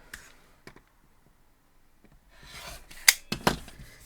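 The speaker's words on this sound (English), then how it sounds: "So we're going to trim those off." Scissors trim quilt fabric pieces for a Birds in the Air quilt block: a few faint clicks early on, a quiet stretch, then several sharp, close snips near the end.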